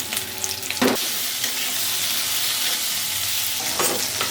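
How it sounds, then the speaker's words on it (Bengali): Potatoes and prawns frying in a pan for a banana-blossom dish give a steady, close sizzle that runs throughout, with two brief scraping stirs, one near the start and one toward the end. "আলুর সাথে সাথে চিংড়ি মাছটাকেও ভেজে নেব।"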